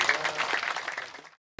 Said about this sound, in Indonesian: Tepuk tangan buat Pak Syakir